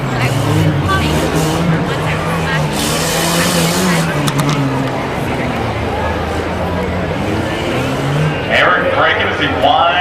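Rough trucks race over a bumpy dirt course with triple bumps at the 2009 Tuscarawas County event, engines roaring and revving loudly as they brake and climb, under constant announcer commentary.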